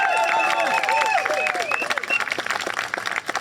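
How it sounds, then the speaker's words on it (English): Crowd at an open-mic gathering in Parliament Square, London, breaks into loud, dense applause that thins into scattered claps, with voices and a few whoops rising over it. "Can we have a round of applause for you guys for being here all day?"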